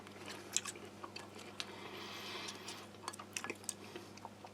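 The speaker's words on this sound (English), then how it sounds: "so a little bit of crunch there now" Dry crunchy crackers from an Italian armed forces 24-hour ration are chewed up close, with a steady run of small crisp crunches and clicks over a quiet background.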